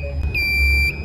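Steering console alarm on a ship's bridge, triggered by a steering motor fault, sounds as a steady, piercing electronic tone that holds loud and continuous for about a second.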